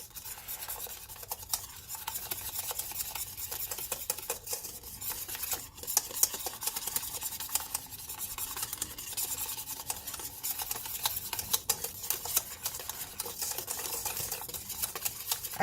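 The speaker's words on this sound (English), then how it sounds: "We're just going to stir it." Homemade sweetened condensed milk whisked in a bowl, making a steady rapid scraping and swishing with light metallic ticks, fairly quiet and close, with no voices.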